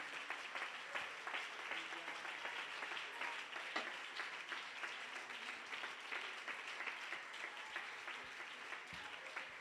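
Congregation at an evangelical church convention service giving a long round of applause to the King, steady crowd clapping heard faintly and at a distance with a few sharper hand claps standing out.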